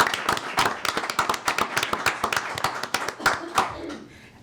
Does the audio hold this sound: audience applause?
yes